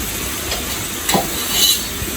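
Oil sizzles lightly in a pan while butter chicken gravy is being prepared, a soft continuous hiss with a few brief stirring scrapes and clinks, no talking.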